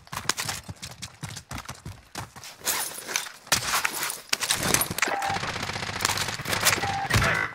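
Gunfire rattles in a squad-based shooter game: irregular bursts of sharp shots, some rapid, some spaced, fairly close and loud, mixed with scuffling movement sounds and no clear talking.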